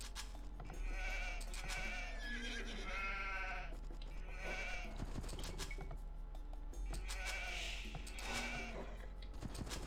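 Sheep bleat repeatedly in Age of Empires 2 gameplay, several clear wavering calls over about ten seconds, close and prominent with a low steady background hum.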